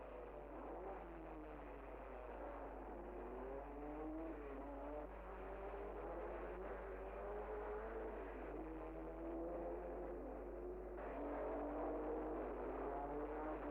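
Vintage 1958 Formula 1 race cars at the Monaco Grand Prix, a steady wash of engine drone with rising and falling pitch sweeps as cars accelerate and pass, moderately distant and continuous without talk.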